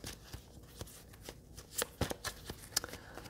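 Soft riffling and snapping of an oracle card deck being shuffled close up, a run of quick papery clicks and flutters at moderate volume.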